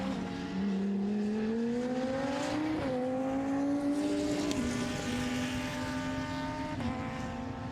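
GT endurance race cars, including a KTM GT2 and an Audi, at the Most circuit; a continuous engine drone with rising pitch through gear changes, steady and fairly close throughout, no talking.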